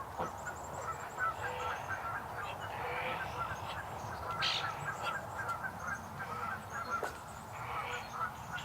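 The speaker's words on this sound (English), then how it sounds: "A real tough little duck." A lame, injured duck honks repeatedly at fairly close range outdoors. The calls are scattered across the whole stretch over a steady background hiss.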